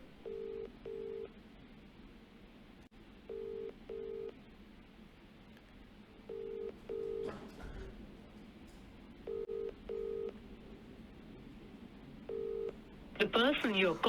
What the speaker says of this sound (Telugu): రోజా నెంబర్ రింగ్ అవుతుంది.